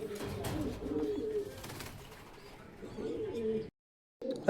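Soft, repeated pigeon cooing in low murmuring phrases, fairly close, with a brief silent gap before the cooing resumes at the end.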